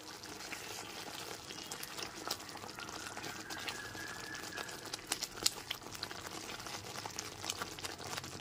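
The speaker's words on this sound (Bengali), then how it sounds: "লবণটা দিয়ে খুব ভালো মতো একবার মিশিয়ে নিচ্ছি।" A cashew and poppy-seed paste masala cooking on medium flame in a pan, faint bubbling and spitting with occasional small clicks of stirring, quiet and close.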